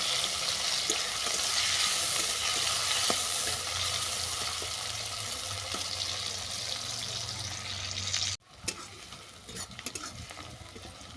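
Chopped onion frying in mustard oil with bay leaf and dried red chilli, a steady close sizzle with stirring scrapes throughout, briefly cutting out near the end before resuming.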